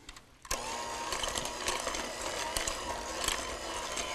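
Electric mixer whirring steadily at medium speed through cheesecake batter with sour cream, starting abruptly after a brief quiet moment and running continuously with small rattling bumps.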